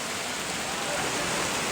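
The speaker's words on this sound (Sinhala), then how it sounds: "දැන් ඉතින් වැස්ස දෙවෙනවා" Rain falls steadily in Moratuwa, Sri Lanka, a dense, even hiss of drops with no breaks, close and continuous throughout.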